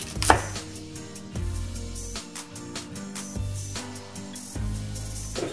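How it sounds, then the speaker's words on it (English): Knife chopping through lettuce on a cutting board while preparing a salad platter, a steady series of crisp, close strikes in bursts with brief pauses, alone without talk. "Now I'm gonna chop this."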